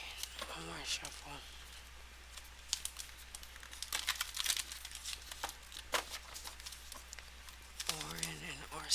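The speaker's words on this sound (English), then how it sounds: "Alright, one more shuffle." Tarot cards are shuffled and handled close up in a series of crisp, papery riffles and rustles, with short bursts of bright crackle scattered across the clip and a voice speaking briefly at the start and end.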